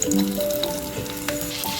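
Steady sizzling of garlic frying in hot ghee in a kadai, close by, with a faint tonal hum running underneath and a few soft clinks.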